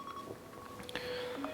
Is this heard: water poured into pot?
no